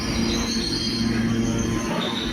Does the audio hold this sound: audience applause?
no